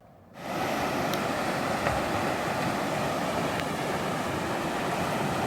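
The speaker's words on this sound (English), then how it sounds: "I can hear downstream rapids in the distance." Rushing water of river rapids along Campbell Creek in Raven Rock State Park, North Carolina; a steady, broad roar starting abruptly after a brief quiet moment and holding evenly, heard from some distance.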